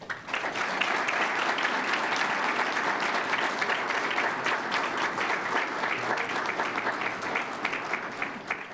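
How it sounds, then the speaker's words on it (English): A sustained round of applause from a crowd at a school board meeting, steady and full for the whole stretch, with no one speaking over it. "please help me give a round of applause"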